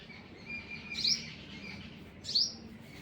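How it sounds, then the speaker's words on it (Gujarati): Sparrows chirp outdoors, giving two short, bright bursts about a second and a half apart over a faint, steady background hiss, with no voices. "અને ચકલીઓ તો હવે આગળ છે અમારે"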